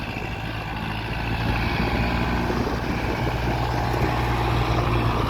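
Kubota tractor engine running steadily nearby, a loud continuous low rumble with a droning throb that builds slightly after the first second and holds without pause; no one speaks.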